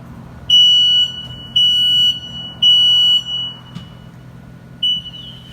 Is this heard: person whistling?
no